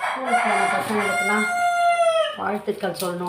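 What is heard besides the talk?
rooster crowing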